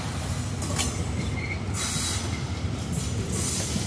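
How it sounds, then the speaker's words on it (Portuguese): A freight train rolls down the Serra do Mar grade with a locomotive's dynamic brake working, giving a steady, loud low rumble of wheels and cars with faint squeals drifting over the top throughout. "E olha o dinâmico trabalhando na C."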